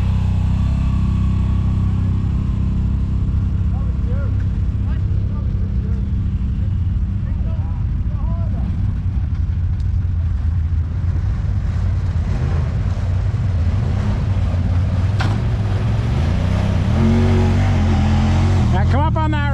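A Yamaha ATV engine drones and revs as the machine crawls over rocks on an October trail ride, a continuous loud rumble with a voice talking over it.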